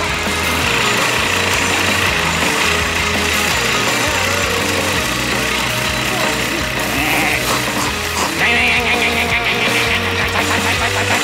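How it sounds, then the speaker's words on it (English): A cartoon lawn mower runs loudly and steadily for the whole stretch, a dense rattling engine drone that dominates, with music or voices mixed faintly underneath. "All this mowing is disturbing my study."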